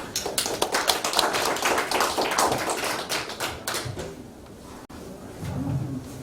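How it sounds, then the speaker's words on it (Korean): An audience claps at a Christian world missions forum, a dense burst of applause for about four seconds that thins out and fades, followed by quiet room sound. "우리 박수 한번 해주세요"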